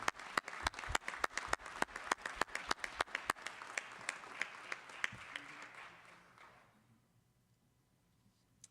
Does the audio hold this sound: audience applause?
yes